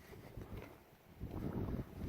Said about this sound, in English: And it got really cold and really windy really fast.